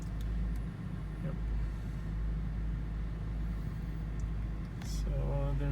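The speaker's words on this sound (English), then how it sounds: "Typical BMW idle issue when you start it." A high-mileage 2007 BMW 530i with VANOS fault codes idles just after starting, showing its idle issue. The low engine rumble is steady and close, with a few faint clicks and a brief change in tone near the end.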